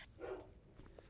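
A pet dog barks once, faint and distant, followed by a small yip.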